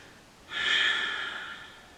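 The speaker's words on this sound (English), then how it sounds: "A long exhale to release." A single long exhale during yoga in child's pose: a soft, breathy whoosh starts abruptly, then fades gradually over about a second and a half, close and quiet with no talking.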